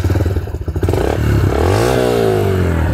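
A 2022 Yamaha YBR G motorcycle engine throbs and then revs up, its modified exhaust note rising into a loud, steady roar close by.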